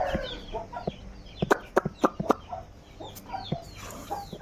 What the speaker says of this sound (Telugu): సో అదే అనమాట మన కోళ్ళు